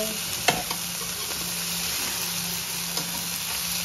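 Sliced bitter gourd (ampalaya) being sautéed in a pan, a constant close sizzle with a few sharp utensil clicks and stirring scrapes, no talk.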